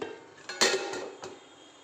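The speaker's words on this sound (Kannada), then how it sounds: "ಈ ಕಡೆ ಎಲ್ಲ ಒಂದು ಕಡಾಯಿ ಇಟ್ಟಿದ್ದೀನಿ" A metal kadai set down on a stove with a single clanking knock, followed by a couple of lighter scrapes and taps, close and fairly quiet in a home kitchen.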